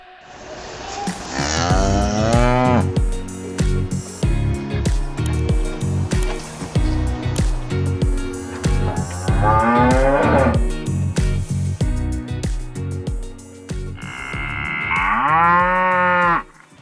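Cattle moo repeatedly, three long drawn-out calls spread across the clip, over a busy background of clanking and shuffling from a crowded pen.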